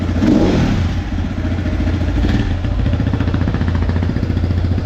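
A newly bought motorcycle engine, said to cost close to 8 lakh, fires up and revs loudly and close by, with a steady mechanical clatter and rumble running through the whole stretch.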